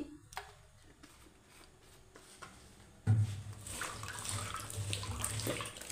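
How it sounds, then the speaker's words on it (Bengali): Chopped potatoes rinsed under running tap water in a kitchen, starting with faint clinks and handling, then a steady, close rush of water from about midway that continues to the end. "আবার আমি জল দিয়ে ধুয়ে তুলে দিচ্ছি"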